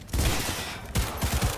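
Gunfire in the video game Cyberpunk 2077: a loud, dense burst of rapid shots that fills the moment, a brief gap, then several more punchy shots close together, with no talk.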